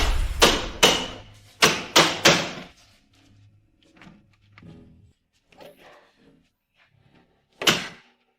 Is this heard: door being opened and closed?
yes